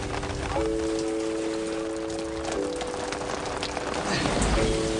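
Steady rain patters outdoors in a dense, even hiss, with a faint tonal hum drifting in and out beneath it.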